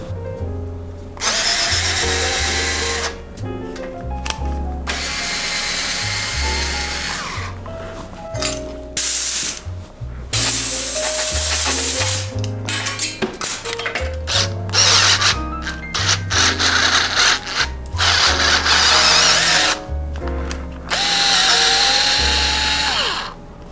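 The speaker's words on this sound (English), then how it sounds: "we got all the threads chased out of the bosses" A power tool chases the threads in the bosses of a bicycle frame, giving loud, repeated whirring bursts with gliding pitch and short pauses between passes. No one speaks.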